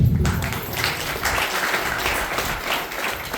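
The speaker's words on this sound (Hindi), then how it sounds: "आइए हम उनके लिए ताली बजाएं।" A church congregation at a Hindi sermon on the Holy Spirit breaks into loud, dense applause, many hands clapping together close by in a steady sustained roar.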